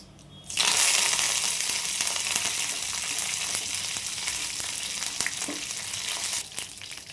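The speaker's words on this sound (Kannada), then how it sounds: "ಇವಾಗ ಕರಿಬೇವಿನ ಸೊಪ್ಪು ಹಾಕ್ತೀನಿ ನೋಡಿ" Curry leaves dropped into hot oil burst into a sudden loud crackling sizzle after a brief quiet moment, then settle into a steady, bright frying hiss that fades slightly toward the end.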